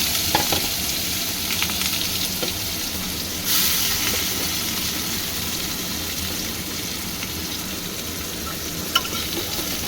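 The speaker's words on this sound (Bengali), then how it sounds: "যেহেতু তেলটা খুব গরম হয়ে গেছে, দিয়ে দিলাম পেঁয়াজ।" Onions dropped into very hot oil with cumin seeds, frying with a loud continuous sizzle and crackle close by, a fresh burst of hiss partway through as stirring goes on, with no talking.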